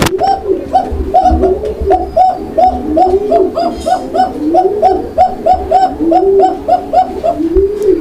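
Pet fancy pigeons coo in a steady, repeating rhythm, one low throaty call after another, close and loud over a faint background rumble.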